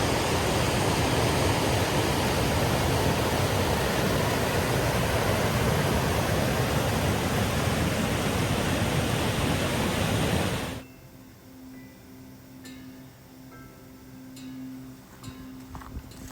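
Water in a creek in Bishop Canyon rushes in a loud, steady, broad hiss that stops abruptly after about eleven seconds, leaving a much quieter outdoor background.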